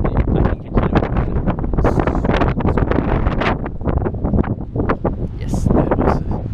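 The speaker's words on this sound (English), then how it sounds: "Yes, that was a gust." Wind gusts batter an outdoor microphone, producing loud, continuous rumbling buffets and irregular thumps throughout.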